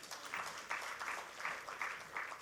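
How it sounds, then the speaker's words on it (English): An audience at a panel discussion on markets and deglobalisation applauds the panelists, with fairly faint clapping heard at a moderate distance and a loosely pulsing rhythm. "A huge round of applause for all our lovely panelists"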